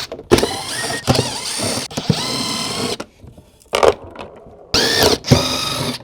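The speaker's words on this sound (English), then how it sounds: "The only tool that we're gonna need is a Phillips screwdriver, and we're just gonna take these screws out" Screws holding a container inside an Epic FX speaker are backed out with a Phillips driver, heard as loud, close whirring bursts of several seconds each, separated by short pauses and scrapes.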